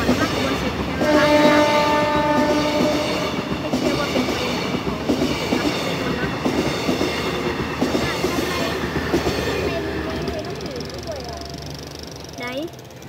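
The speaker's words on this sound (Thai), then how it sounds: "มาแล้วฮะขบวน10มาแล้วฮะ" The Uttarawithi passenger train No. 10, Chiang Mai to Bangkok, roars past up close with a loud, sustained horn blast, wheels rattling beneath it, while someone talks over the noise.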